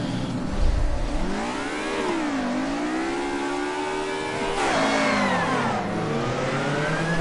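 Car engine in the Assetto Corsa racing game revving hard while driving, its pitch climbing and sagging through shifts in one steady, loud, continuous drone with no talking.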